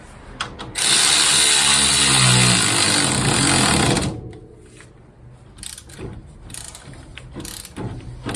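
An impact or air tool tightens an axle nut on a 1997 Honda Civic, a loud continuous mechanical whirr lasting about three seconds and then stopping, followed by quieter shop clatter and handling noises.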